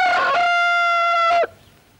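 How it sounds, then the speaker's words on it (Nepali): A rooster lets out one loud, close crow lasting about a second and a half, with nothing else sounding around it, then the call cuts off into quiet. "कहाँबाट कुखुरा करायो"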